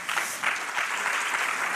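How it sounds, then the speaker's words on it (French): Audience applauding speakers at a round-table panel during an awards event, a dense steady burst of clapping heard alone for a short stretch. "qu'on peut applaudir très fort"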